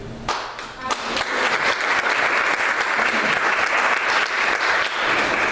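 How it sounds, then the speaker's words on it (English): Luncheon audience at a Dawson County Chamber event applauding, steady sustained clapping from a roomful of people, loud and even for several seconds with no talk over it. "you deserve applause for all of that communication you did"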